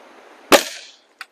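A Diana 34 air rifle fitted with a Macarri tune kit fires one sharp, loud shot that decays quickly, followed by a faint short click.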